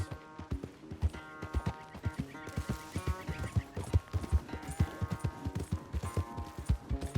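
Hooves pound in a fast, continuous gallop as a horse runs in Red Dead Redemption 2, close and rhythmic, with light tack rattle and a quiet musical backdrop, no voices.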